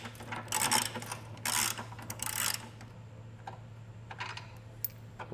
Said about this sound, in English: They're all going to be an 18 millimeter socket to get these taken down.